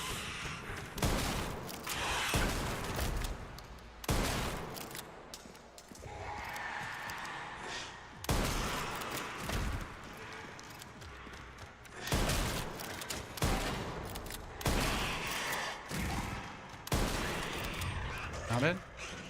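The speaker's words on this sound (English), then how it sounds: "It's 3 shotgun shots and we get them down." Shotgun blasts and gunfire in the survival horror game Resident Evil Requiem, loud repeated booming shots scattered through the stretch with a burst near the start and more toward the end, mixed with game noise and a voice talking.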